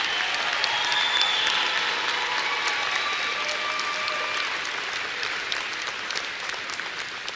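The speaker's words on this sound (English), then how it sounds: "give our graduates a round of applause" Sustained audience applause for graduates at a summer undergraduate commencement ceremony, a dense, even wash of many hands clapping in a large hall, with faint cheers and whistles threaded through it.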